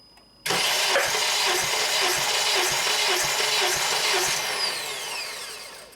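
A Honda 2.4L K24 engine is cranked with the throttle wide open during a compression test: the starter kicks in abruptly, then a steady rhythmic whirring churn with regular compression pulses, close by.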